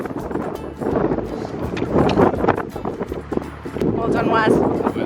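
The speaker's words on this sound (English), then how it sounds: "It's very windy." Strong wind buffets the microphone as a narrowboat sets off on a canal, a gusty low rumble that swells and fades while people talk over it.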